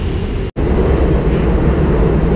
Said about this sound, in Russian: И вот такие старые трамвайчики, очень классные, прям ретро-стайл.